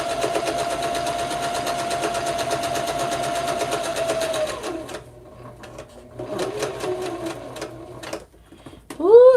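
A sewing machine whirs steadily for several seconds, stops, then runs again in shorter bursts with brief pauses between.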